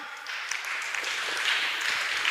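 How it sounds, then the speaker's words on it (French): An audience at a Sunday church children's gathering claps together in a dense, steady burst of applause that swells slightly toward the end, with no talking over it. "On acclame"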